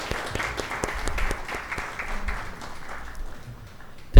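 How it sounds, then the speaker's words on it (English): Faculty members at a PG diploma convocation ceremony clapping for the graduating students, a moderate patter of hands that thins and fades toward the end, ending in a sharp knock. "Now let us all faculty members clap for the students"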